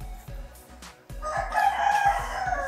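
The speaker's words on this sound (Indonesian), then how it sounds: "Ya, suara ayam makin kencang." A rooster crows loudly and close, a drawn-out cock-a-doodle-doo rising over a low rhythmic pulsing background beat.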